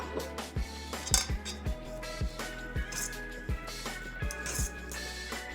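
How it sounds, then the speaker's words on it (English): Keto pizza dough being combined with a cream cheese and mozzarella mixture, heard as a run of sharp clinks and knocks of utensils against a bowl, fairly close and moderately loud with no talking. "I'm going to take this cream cheese and mozzarella mixture and throw it in with everything else."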